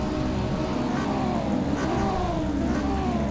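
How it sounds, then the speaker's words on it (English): Race car engines revving together on the grid before a standing start in a sim racing game of a classic Porsche Cup round, a dense, continuous engine drone with rising and falling pitch under faint commentary. "Revving those engines."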